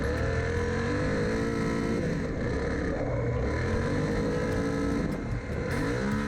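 A Suzuki V-Strom 800DE motorcycle rides along a beach, its engine droning close and loud with repeated rising and falling revs, as in power slides, over a constant wash of wind noise.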